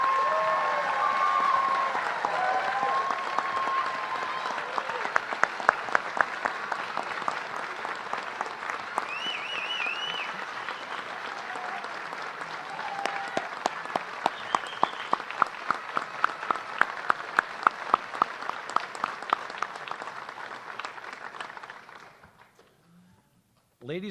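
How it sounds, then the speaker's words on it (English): An auditorium audience gives sustained applause for newly sworn Drug Enforcement Administration special agents at a ceremony, crisp individual claps standing out over dense clapping that swells midway, then tapers off and falls silent near the end. "let's have a round of applause for the newest special agents of the Drug Enforcement Administration"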